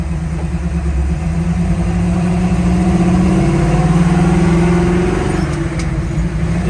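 Engine of a 1979 Jeep Renegade running loud and close as it drives, a steady mid-pitched drone whose tone rises slightly as it pulls along, with no talking over it.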